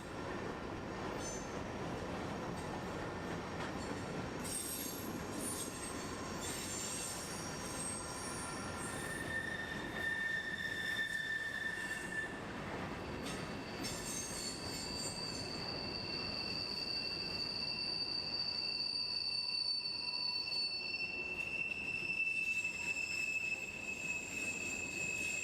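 A freight train rolling through the historic B&O Howard Street Tunnel in Baltimore, its wheels squealing in long, high-pitched whines over a steady rumble that carries on for the full length, with no talking.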